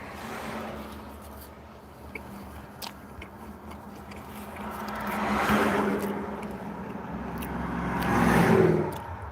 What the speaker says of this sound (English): there's so much traffic noise going past